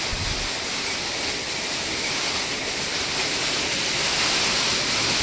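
Typhoon rain pours down in a dense, even roar of steady hiss, close and unbroken, with no voices over it.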